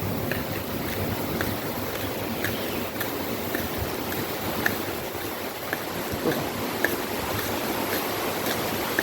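A mountain stream runs in a steady broadband rush near the foot of a waterfall in farm country, constant and fairly close, with no talking over it.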